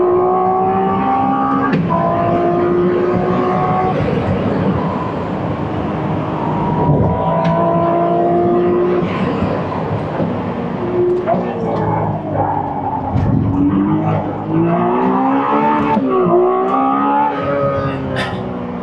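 Ferrari F80 hybrid supercar accelerating hard out of track corners, its engine climbing in loud, rising revving sweeps with gear changes, close and continuous throughout.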